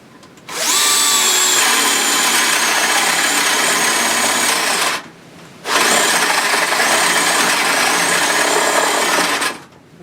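A power drill bores through a wooden board for an egg tray, in two long continuous bursts of grinding whine separated by a short pause, loud and close with no talk.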